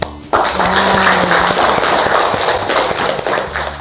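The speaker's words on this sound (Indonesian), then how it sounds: "kita tepuk tangan dulu" A junior high school class claps their hands together in a classroom, a lively, crackling patter of many claps starting abruptly and continuing steadily.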